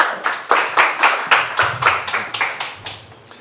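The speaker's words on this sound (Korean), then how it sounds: "우리 박수로 환영하도록 하겠습니다." Audience at a lecture on urban churches and missional church clapping to welcome the lecturer, a brisk run of roughly a dozen crisp, evenly spaced hand claps, close and fairly loud, with no talking over it.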